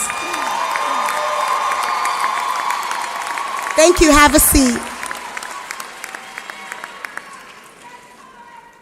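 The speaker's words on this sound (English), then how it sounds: "Give them a round of applause." At a high school graduation ceremony in Brockton, an audience breaks into a short burst of applause and cheering while a speaker addresses the crowd over a microphone before and after.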